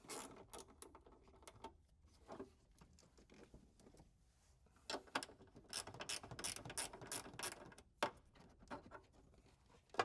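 A ratchet with a 10 mm socket loosens a battery cover bolt on a 2016-2023 Toyota Tacoma, producing faint bursts of rapid clicking with short pauses between strokes.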